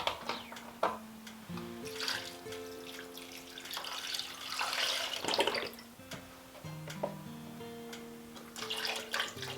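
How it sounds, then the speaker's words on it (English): Beef broth pours into a pot of Italian vegetable soup with a continuous liquid splashing and trickling, moderately close, with brief clinks of utensils. "Next I'm going to add in 2 cups of beef broth or beef stock."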